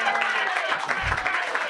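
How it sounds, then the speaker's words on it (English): A comedy show audience claps in a dense, continuous patter, with crowd noise and voices running underneath and a brief low thump near the middle. "Clap for that guy."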